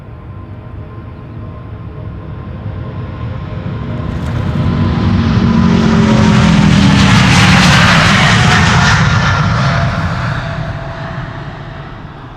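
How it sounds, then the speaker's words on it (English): United Airlines Boeing 777-200 jet at Schiphol Airport, a 25-year-old airliner whose engine roar swells as it approaches, peaks loudly, then slowly fades, with no talk. "United Airlines flight 21 777-200 going to Houston, Texas."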